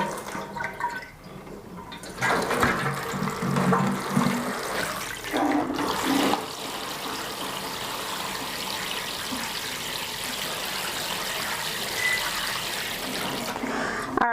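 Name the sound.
water being poured into clear plastic containers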